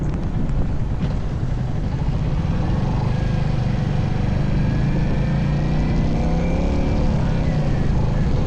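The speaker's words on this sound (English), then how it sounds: "That was Rick there on the corner on his Scram 411, or Scrambo as he likes to call it." A Royal Enfield Scram 411 motorcycle on a group rideout to Dungeness goes past on a corner. Its engine drones low and steady and the note shifts slightly as it passes, mixed with rushing wind noise. No one speaks.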